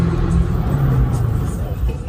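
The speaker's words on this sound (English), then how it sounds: "When you have a car this loud and you're in the parking garage" Loud car engine rumbling with low revving in a parking garage in Dubai, a steady heavy drone echoing close by throughout, with a voice talking over it.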